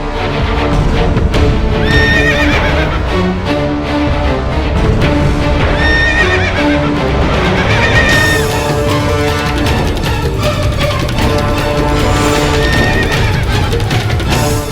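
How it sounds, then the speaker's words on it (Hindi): A horse in a dramatized tale of the Indian warrior Maharana Pratap neighs and whinnies loudly and repeatedly over a busy soundtrack, with hooves clip-clopping throughout. "अरे, बाबूजीराज प्रताप का घोड़ा भिड़क रहा है।"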